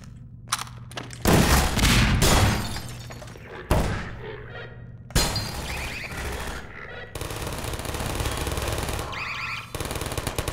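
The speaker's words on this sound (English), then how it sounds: "So turrets are keep doing a good job" Automated turrets firing in Half-Life 2, loud rapid bursts of machine-gun fire in several long volleys with short gaps, close and dominating.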